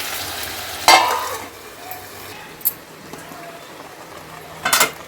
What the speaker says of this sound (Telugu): ఒకసారి అయితే కలపాలి ఇలా మధ్యలో.